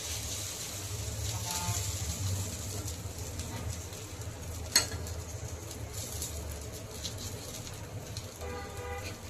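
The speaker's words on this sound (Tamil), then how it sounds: "இப்போ நம்ம தோசை ஊற்ற போகிறோம்." Dosa batter hits a hot pan and sizzles in a steady, hissing wash of frying noise, close and fairly even throughout, with a single sharp tap midway.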